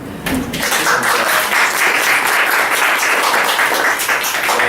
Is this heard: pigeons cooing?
no